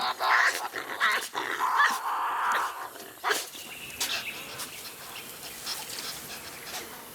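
Tasmanian devils fighting, with loud rasping growls and snarls in bursts over the first few seconds, then quieter scuffling and intermittent growls trailing off.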